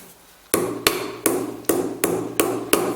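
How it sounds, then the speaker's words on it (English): Seven sharp metal hammer blows ring out at a steady pace, close and loud, as a claw washer is staked on the tie rod of a steering rack during a rebuild. "when you're hammering, when you're staking the claw washer, be careful not to hit your steering rack"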